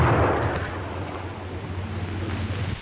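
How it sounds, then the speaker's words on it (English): A German stick grenade, the potato masher, exploding as a blast-effect charge: a single heavy low boom that swells at the start and then rumbles and decays into a long roaring tail. "Out comes the potato masher. Being constructed to deliver a maximum blast effect, its explosion will stun rather than cause injury by fragmentation."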